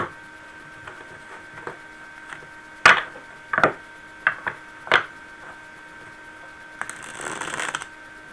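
A deck of tarot cards is shuffled in a few sharp riffling bursts, with softer taps between them and a brief rustle near the end, close and clear in a quiet room.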